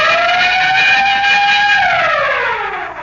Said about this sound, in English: Say, Ray, could we have that siren and bell again?